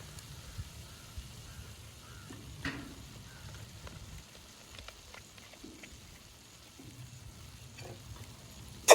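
Coconut oil heats in a pan in a Jaffna village kitchen, a quiet, low crackle and soft sizzle with scattered faint pops and a few light knocks, ending in one sharp clack.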